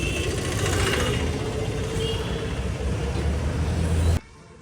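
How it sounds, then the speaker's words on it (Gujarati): A motorbike rides through the morning streets of Haridwar, its engine giving a loud, steady drone mixed with wind and road rumble, close-up and continuous until it cuts off abruptly near the end. "તો ચાલો હવે આપણે જઈએ આપણી બાઇકને લઈને."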